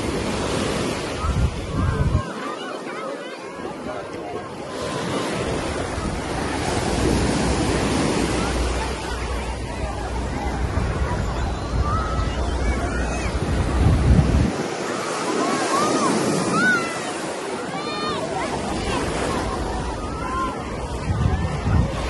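Surf breaks and rolls along Al-Darwish beach in Alexandria, a continuous wash of waves with wind gusting across the microphone and faint crowd murmur in the distance.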